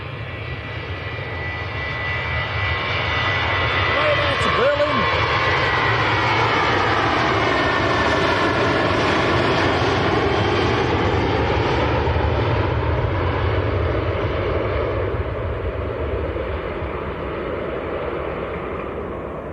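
A Jet2 airliner coming in to land at Manchester Airport roars loud and close, engine tone sweeping as it passes overhead, then slowly fading.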